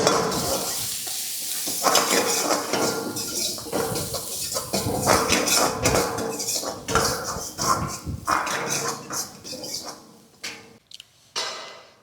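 Chopped ginger and onion are stirred in a hot pan, giving dense, close scraping and sizzling with clinks of a utensil against the pan that thin out near the end.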